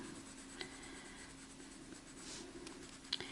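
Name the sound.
pencil laid down making broad strokes while drawing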